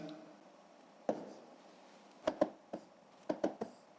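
A pen writes digits by hand on paper while working through long division, making a few short, quiet scratchy strokes and taps spaced irregularly over a near-silent background, with no talking.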